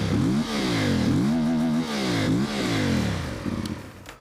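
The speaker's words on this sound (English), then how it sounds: "I'll rev it up for you to see." A CFMOTO Ibex 450 motorcycle on its stock exhaust is revved repeatedly at close range, several loud rising-and-falling blips roaring up and dropping back toward idle, with no talking.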